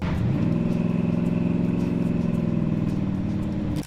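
A 1970 Chevrolet Chevelle SS 454 V8 muscle car engine rumbles loud and close, a steady deep throaty idle-to-cruise drone holding for several seconds before cutting off abruptly.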